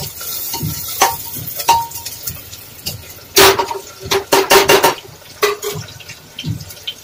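Paneer pieces fry in an oil-filled pan on a gas stove, giving irregular crackles and sharp spattering pops that cluster into a louder burst midway, all close by with no one talking.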